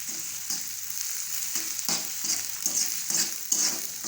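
Ginger, garlic and ground coriander paste frying in a pan for a bitter gourd and egg dish, a steady close sizzle with periodic louder bursts as it is stirred, no talking.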